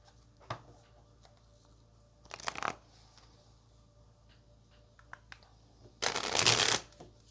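Tarot cards being shuffled by hand in a quiet room, heard as a few short riffles and taps followed by two longer bursts of flicking cards, the last one the loudest. No one speaks.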